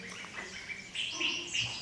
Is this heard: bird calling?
yes